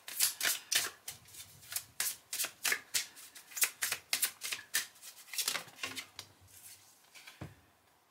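A deck of cards is shuffled for a full moon card reading, crisp riffling and slapping bursts repeating in quick rhythmic succession, close and clear with no talking.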